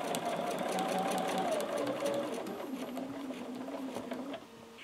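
A sewing machine stitches in the ditch along a quilt's seam, running in a steady close whir whose pitch drifts lower as it slows, then stopping near the end.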